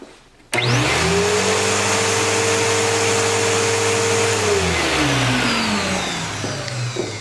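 An upright vacuum cleaner switches on abruptly with its brush roll spinning, holding a loud, steady whine before the motor pitch drops and winds down toward the end, with no voices.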